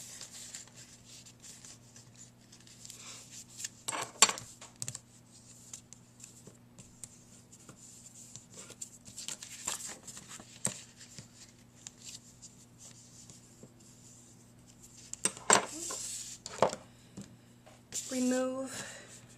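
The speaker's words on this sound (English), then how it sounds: "Now fold all of the rest of your score lines." A paper envelope is folded along its pre-scored lines, giving soft, scattered creases and crinkles spread across the stretch. The sounds are quiet and close, with a short burst of voice near the end.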